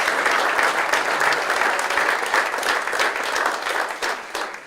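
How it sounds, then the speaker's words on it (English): Sustained audience applause at a university engineering college event, a dense, steady wash of many hands clapping, loud and close throughout with no talk over it. "Let's give them another round of applause for accomplishing that"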